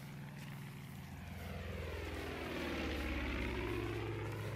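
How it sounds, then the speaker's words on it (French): Propeller airplane engine in the video game Far Cry 5 drones steadily, swelling louder as it passes close, with a low engine rumble beneath a wide whooshing airflow and no talking. "un avion."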